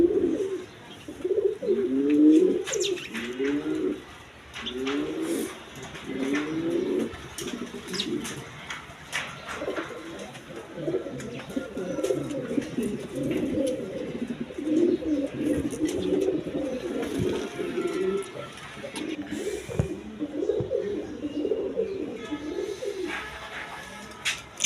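Raj Golla pigeons cooing close by, a pair giving repeated rhythmic rolling coos in bursts, sometimes overlapping, with short quieter gaps and no talk.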